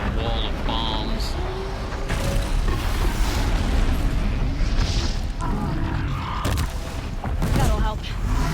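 Bombs going off in a video game, a steady barrage of muffled booms and bursts layered under dense game noise, with someone talking over the action.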